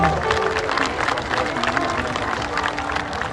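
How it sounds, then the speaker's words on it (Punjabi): A crowd at a Saras Mela stage concert claps for a singer, dense continuous applause from many hands with a voice speaking over it. "ਇਹ ਤਾੜੀ ਉਹਦੇ ਨਾਲ ਤੇ ਮਾਰ ਲਓ ਮਾਰ ਲਓ"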